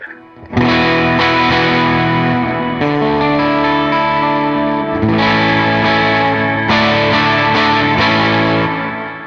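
An electric guitar through a Line 6 Helix patch plays a sequence of ringing sustained chords, restruck several times at a steady pace, loud and up close with nobody speaking.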